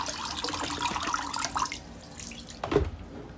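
Water drains and trickles from the baskets of a Fluval 407 aquarium canister filter, a steady splashing flow with a few louder drips and a clunk near the end, no voices.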